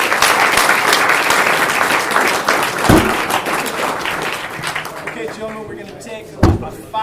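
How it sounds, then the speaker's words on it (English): Audience applause for a group of speakers rings out loudly for about five seconds, then fades into scattered claps and a few voices, with a sharp thump near the end. "Give these guys a round of applause."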